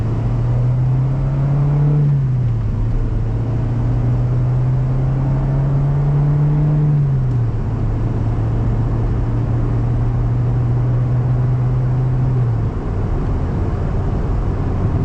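A Saturn S-Series car on a test drive after new spark plugs and wires hums steadily from inside the cabin, engine tone rising and dropping through a couple of shifts under low road rumble, with no talking.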